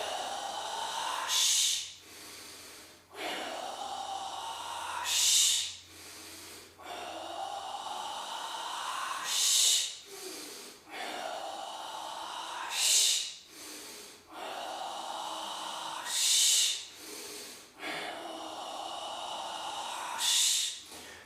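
Deep, rhythmic breaths in and out during a Qigong exercise, each long airy inhale and exhale close and clear, repeating steadily with brief pauses between cycles and no talking.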